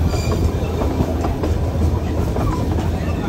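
Darjeeling Himalayan Railway toy train running on its mountain line, a steady close rumble of wheels and carriages with faint clickety-clack throughout, no talk.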